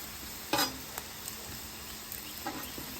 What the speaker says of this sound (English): I'm just looking to render some of that fat out